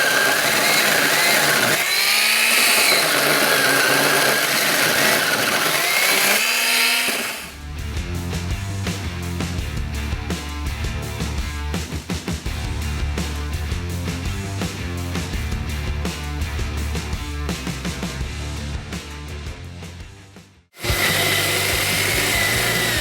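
An ECHO 56V battery-powered mini chainsaw cuts wood with a steady, loud, buzzing motor whine under load, dropping briefly before a second cut starts right away.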